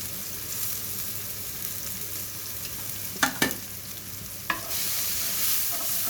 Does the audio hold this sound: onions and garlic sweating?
yes